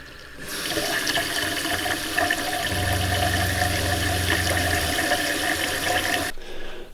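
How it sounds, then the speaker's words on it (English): Water gushes steadily from an RV bathroom faucet into a sink for several seconds, then cuts off abruptly; a low mechanical hum joins partway through. "I'm going to check the bathroom faucet"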